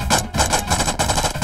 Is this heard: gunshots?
yes